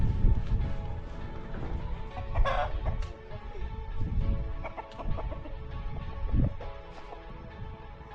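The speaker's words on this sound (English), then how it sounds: "Little rooster. Look at that cock." A small rooster in Paplu, a village in Solukhumbu, Nepal, clucks and crows close by, giving a few short clucks and a brief crow-like call over faint village background noise.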